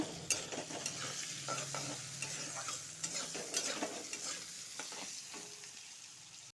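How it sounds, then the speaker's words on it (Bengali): Parboiled potatoes and a bay leaf fry in hot oil in a pan, with a soft steady sizzle broken by repeated scraping clinks as they are stirred, quiet and close with no voices. "আলুটা ঢেলে দিব আর একটা তেজপাতা দিই আলুটা ভেজে নিব"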